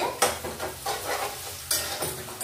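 Potato pieces fry with black cumin in a pan, a soft sizzle broken by a few stirring scrapes of a utensil against the metal, close and moderately loud.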